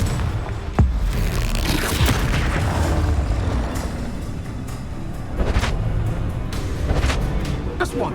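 Confringo fire spell explosion in the Hogwarts Legacy video game: a sharp blast hits early, followed by sustained rumbling combat noise with several further impacts toward the end.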